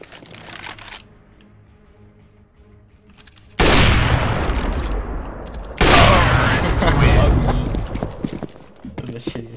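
Gunfire from the video game CS:GO comes as two loud, dense, sustained bursts in the second half, after a quieter stretch with faint game sounds.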